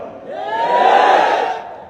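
At a Deobandi religious gathering in Bangladesh, a large crowd shouts a slogan in unison, loud and close, with the chant rising and then fading over about two seconds.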